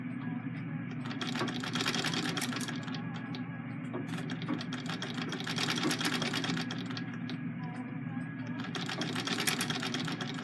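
A treadle sewing machine runs continuously with a steady mechanical whir and rhythmic clatter, its pace swelling and easing slightly, while a person talks quietly underneath.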